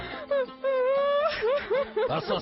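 A person cries and wails in a village household, with long rising and falling moaning tones broken by shorter sobbing cries, loud and close.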